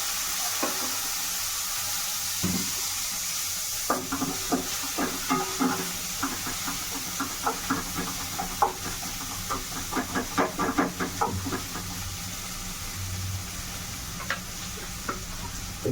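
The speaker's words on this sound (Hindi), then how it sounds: "पियाज देदेवा कटा पियाज देना" Chopped onions sizzle in a hot pan for an Odia-style simba rai dish, a steady frying hiss with irregular crackles and scraping stirs growing busier through the middle.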